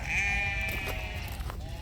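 A sheep bleats in a farm pasture, giving one drawn-out, wavering call at moderate distance over a low background rumble.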